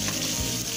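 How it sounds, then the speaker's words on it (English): Steady, dense sizzling of meat frying in a hot pan, close and continuous, with a brief low stirring thud midway. "that's frying the meat here as it goes much faster"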